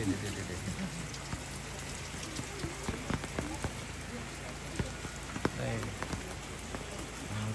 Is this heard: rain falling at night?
yes